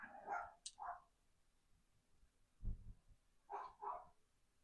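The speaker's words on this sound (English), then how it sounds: "My dog is upstairs barking his head off." A dog barks several times in short bursts, muffled from upstairs, with quiet gaps between the barks.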